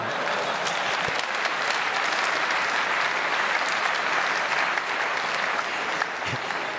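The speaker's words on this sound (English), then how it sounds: "Give yourselves a nice clap." Sustained applause from a conference audience fills the room steadily from start to finish, a dense wash of many hands clapping at an even, loud level with no speech over it.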